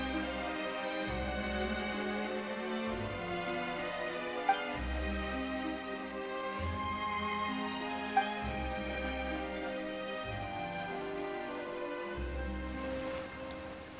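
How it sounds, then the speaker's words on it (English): Video game rain falling in a steady soft patter, faint and even, under a quiet looping musical score with a couple of small drip accents. "Why is it raining all of a sudden?"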